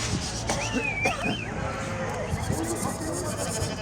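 A lamb bleats a couple of times among the noise of a livestock market in Afyon Çayırbağ, the calls rising near and clear over a murmur of people talking and rustling.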